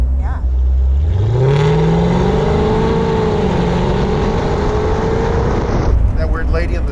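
A 478ci Hemi V8 in a 1959 Austin Healey Bugeye Sprite revs up from a low idle into a loud, muffled, rising roar, holds steady for several seconds, then cuts back sharply near the end.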